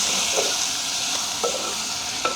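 Curry chillies fry in a pan with tomato and curry leaves, a steady sizzle running throughout while a spoon stirs them with a few light scrapes and clinks, close by.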